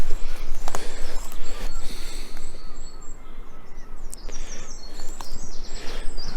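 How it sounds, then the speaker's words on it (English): Birds chirping and singing near a railway tunnel entrance, several high calls over rustling footsteps and a rough outdoor background. "It's lovely down here, got all the birds singing"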